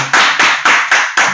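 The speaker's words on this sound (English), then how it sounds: "Let's get a round of applause" Five loud, evenly spaced hand claps, close up and sharp, each with a quick decay, from a single person or small group, no talk.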